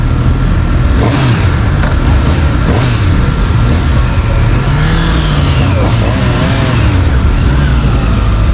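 Honda CB1000R Hornet motorcycle engine revving on a test ride, a loud, steady rumbling roar with rising and falling pitch as the throttle opens, heavy wind noise throughout, and someone talking over it.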